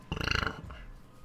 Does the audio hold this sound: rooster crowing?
no